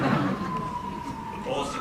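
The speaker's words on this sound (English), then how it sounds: "A police siren?" A police car siren wails faintly as a thin, steady tone beneath a voice and city noise in a short stretch.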